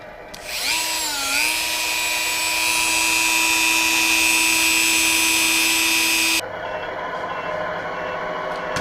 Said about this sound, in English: so let's grind a little more